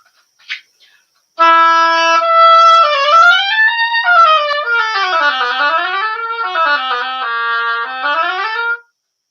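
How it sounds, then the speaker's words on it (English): An oboe playing a bending, sliding melody of sustained reedy notes, close and loud, after a brief tap, with no talking. "Oboe can make very emotional sound, melody, beautiful melodies"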